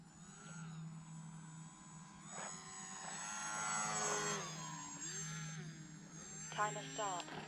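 A Hobbyzone Aeroscout RC airplane flies with a steady, whining electric motor whose pitch swells and dips as it passes, near and moderately loud throughout.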